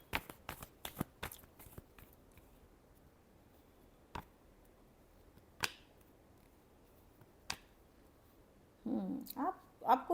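Tarot cards being shuffled, a quick burst of crisp riffling clicks at the start followed by a few isolated taps and snaps, then faint rustling and handling noise near the end.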